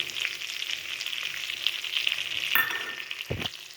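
Stuffed brinjals coated in masala being stirred in a pan, a steady close sizzle with scraping movement throughout and a brief louder scrape near the end.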